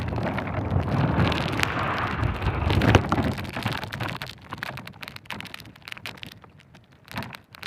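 Strong wind gusts at sea while fishing nets are hauled, a loud broadband rush and buffeting that fills the first few seconds, then eases into a lower, ragged roar with occasional sharp flutters.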